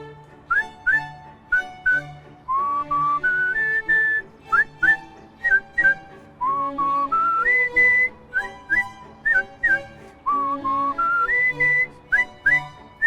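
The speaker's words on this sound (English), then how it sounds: "it's whistling happy birthday for people" A clear, melodic whistled tune of happy birthday, with short repeated notes and rising phrases, loud and close with no talking.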